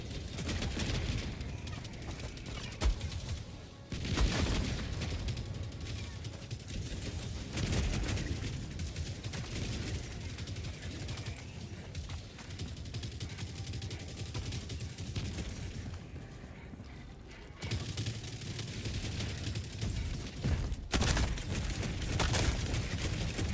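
Sustained bursts of gunfire and explosions from a hardest-difficulty shooter mission, with a grenade going off amid continuous shooting, loud and dense throughout with brief sharp blasts.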